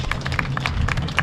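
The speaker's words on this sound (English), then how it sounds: "Let's give them one more big round of applause in our showmanship." Audience applause at a county fair 4-H livestock show honoring showmanship winners: steady, moderately loud clapping from a crowd, a dense patter of individual claps with no talk over it.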